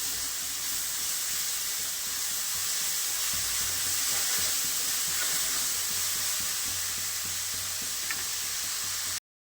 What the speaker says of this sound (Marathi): बारीक कट केलेला कांदा छान असा परतून घ्यायचा लालसर होईपर्यंत